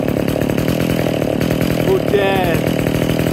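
A Pro Mac 10-10 chainsaw runs steadily at high revs, a loud, buzzing engine drone that holds constant throughout, with a voice briefly audible over it.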